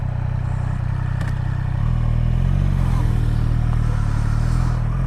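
A 2023 Triumph Street Triple RS with traction control switched off drones steadily up close, then its engine note jumps louder and higher as it accelerates hard partway through.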